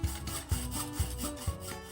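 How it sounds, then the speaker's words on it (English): Hacksaw drawn back and forth through a thin tubular metal coffee table frame, four even rasping strokes about half a second apart, close and fairly quiet with no talking. "Using a hacksaw to cut thin tubular metal like this is perfectly fine, but it's slow going and takes a lot of effort."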